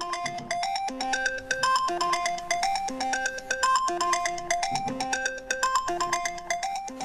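A mobile phone ringtone plays a bright, repeating electronic melody in a steady looping rhythm, clear and alone with no voices over it.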